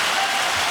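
A brief burst of dense, continuous clapping, steady and fairly loud over less than a second.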